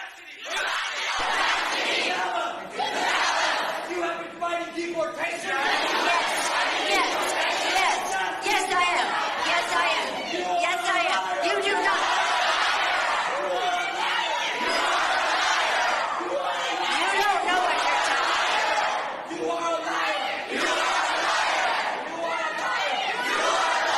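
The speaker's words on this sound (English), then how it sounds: "When Pelosi appeared at an event in San Francisco, she got shouted down by the crowd" A San Francisco crowd shouts down Nancy Pelosi at a public event, loud overlapping yells, chants and jeers rolling continuously, with voices rising and falling in waves as the protest noise dominates throughout.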